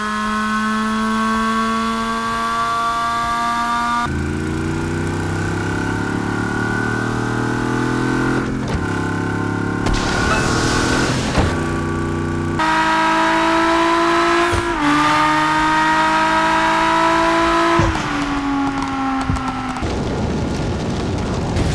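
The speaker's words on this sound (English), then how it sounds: "The audio on the cars is also pretty good and a big step up from dangerous driving." Car engines in the Wreckreation racing game, several vehicles in turn: loud, continuous revving and sustained engine drones with sharp changes in pitch at each switch, some whining higher and others rumbling lower, with no talk.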